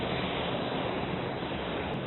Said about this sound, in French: Là, il y a des grosses vagues.